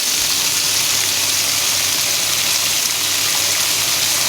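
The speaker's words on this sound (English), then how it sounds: "There we are filling in the Whirlpool" Warm water pours into a Whirlpool washing machine as it fills. The sound is a constant, loud, close gushing hiss with a faint low hum underneath, steady from start to finish and free of speech.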